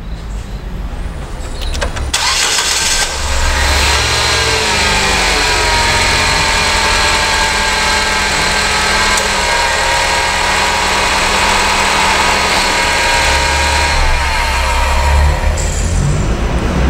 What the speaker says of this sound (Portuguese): Agora a gente vai funcionar o veículo,